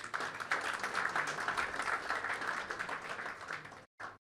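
Audience applause at a chamber of commerce awards function: dense, steady clapping from a large crowd for several seconds, breaking off abruptly before a brief final burst.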